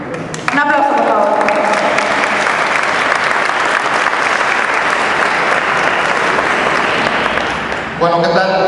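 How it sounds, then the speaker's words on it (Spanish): An audience at a state youth congress bursts into applause for a speaker, loud sustained clapping from a crowd that starts abruptly and drops off near the end as a voice returns. "Un aplauso, por favor"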